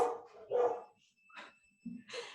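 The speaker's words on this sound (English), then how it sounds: "We got doggies. We got dogs." Dogs wearing vibrating bark collars give a few short, close barks and yips in separate bursts, with quiet gaps between them indoors.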